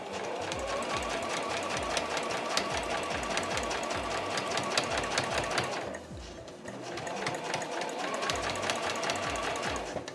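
A sewing machine runs steadily while stitching fabric for a tissue pouch, a fast mechanical rattle with a brief pause midway before it starts again. It is close and loud, with no voices.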